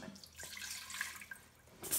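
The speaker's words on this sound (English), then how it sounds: "First, we are going to put 1 cup of water in the pot." A cup of water is poured into an Instant Pot, a quiet, brief splash and trickle close by, ending in a slightly brighter spill.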